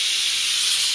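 A pressure cooker whistle lets out a steady, loud, high-pitched steam hiss that holds unbroken for the whole second, close and alone.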